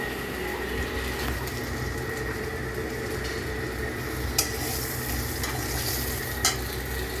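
Fish curry cooking in a pan, with a steady bubbling sizzle and occasional stirring scrapes running continuously at moderate volume, plus a couple of brief sharp clinks, no talking.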